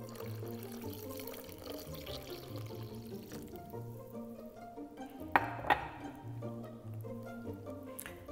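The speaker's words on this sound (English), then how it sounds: "And now we'll add the rest of the milk." Milk is poured into thin crepe batter in a kitchen, making a quiet, continuous liquid pour with a couple of light clinks partway through.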